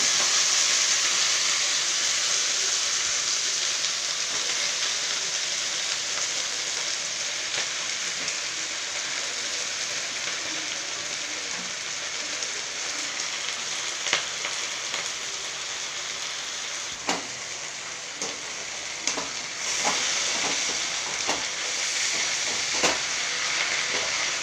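Washed spinach leaves frying in a hot pan for a home lunch, a loud, steady close sizzle and hiss that continues throughout, with scattered crackles and pops toward the end.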